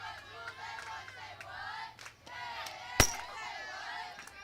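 A single sharp crack of a softball bat fouling a pitch straight back during a college softball game, standing out above a steady broadcast commentary voice and a low crowd murmur.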